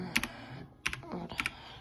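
Three short bursts of computer keyboard typing while a chat command is entered, each a quick cluster of clicks with pauses between, close and fairly quiet, no voices.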